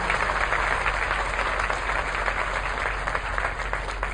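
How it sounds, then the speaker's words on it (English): A standing audience at an eighth-grade graduation applauds the candidates with a dense, continuous wash of clapping at steady volume, broad and roomy with no distinct voices, over a low background hum. "Let's please give all the candidates a round of applause."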